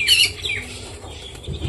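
Pigeons being fed flap their wings in a short, close burst of fluttering that fades quickly, followed by faint rustling.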